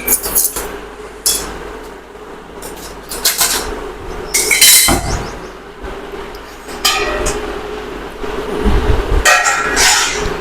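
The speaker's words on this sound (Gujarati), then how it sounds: "અને અહીંયા ડીશ પણ લઈ લીધી છે રોટલી રાખવા માટે" Plates and a metal pan clink and clatter intermittently in a home kitchen while rotli are being made, with sharp knocks and a ringing rattle near the middle, close and fairly loud, no talking.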